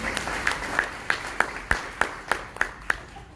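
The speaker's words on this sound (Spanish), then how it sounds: "Denle un aplauso a Cristo." A congregation at a Spanish-language service in a Christian fellowship church claps together in a steady, even rhythm, about three sharp claps per second, moderately loud and with no talk over it.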